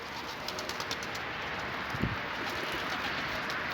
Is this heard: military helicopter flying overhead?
no